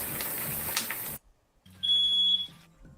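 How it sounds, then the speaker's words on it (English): A kitchen smoke alarm shrills while pierogies fry in a pan, a short piercing electronic tone cutting in after a noisy stretch and a brief silence, loud and close. "The smoke alarm goes off because he's frying the pierogies."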